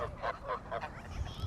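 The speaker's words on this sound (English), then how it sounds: "we are now surrounded by a flock of geese and ducks" A flock of geese and ducks honks on the river near Abingdon, with several soft, overlapping calls coming at a moderate distance.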